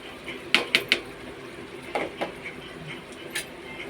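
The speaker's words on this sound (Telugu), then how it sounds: "టమాటాలు యాడ్ చేసి ఈ రకంగా మొత్తము కలిదిప్పుకోండి." A spoon stirring tomatoes into chicken curry in a metal pan: a quick run of three sharp clinks, a pause, then scattered softer taps and scrapes, close by with no voices.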